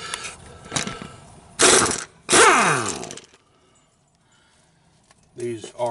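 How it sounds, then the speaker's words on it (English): An impact wrench removes a 22mm bolt on a 2008 Kia Spectra, two loud short rattling bursts in the middle, with a quieter mechanical whir before and after. "Fixing to scare him with this impact wrench. It's a 22mm."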